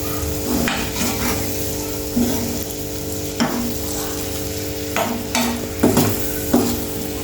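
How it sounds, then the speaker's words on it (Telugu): Sliced onions spread over three eggs frying in a pan for an onion egg curry, sizzling steadily while a spatula stirs and scrapes with several sharp knocks against the pan. "ఫ్రై కదా ఈ ఆనియన్స్ అంతా పైన వేసేసుకుందాం ఇట్లా"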